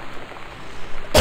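A single sudden, loud cough bursts close into a microphone at the very end, after a brief stretch of low background noise.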